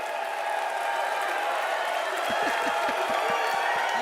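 A large shareholder audience erupts in cheering and whooping after a CEO pay package vote passes, loud and sustained, with a scatter of claps and shouts rising over the roar.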